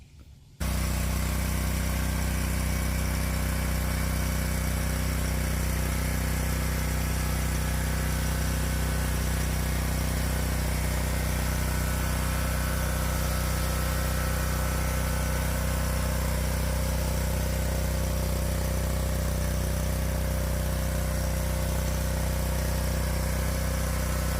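After an oil change, a Toro zero-turn mower engine starts with a brief click, then idles in a steady, even, close-up rumble that holds unchanged for over twenty seconds.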